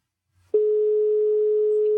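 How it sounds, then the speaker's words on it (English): A phone ringtone sounding as one steady, loud electronic tone that starts abruptly and holds unbroken, heard alone. "I assume this is a ringtone."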